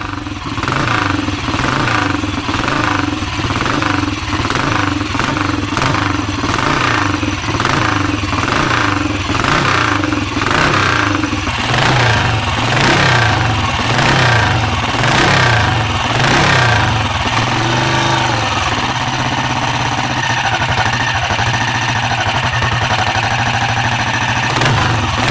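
A 1966 BSA Victor Scrambler motorcycle engine runs loud and close, with repeated throttle blips rising and falling in rhythmic revs before settling into a rough, steady idle, no voices.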